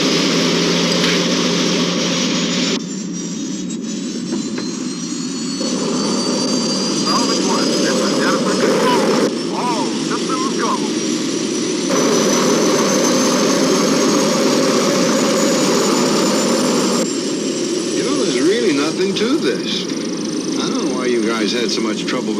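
Aircraft engine roaring at liftoff, a loud continuous jet-like rumble with a rising whine across the whole stretch, while voices talk over it.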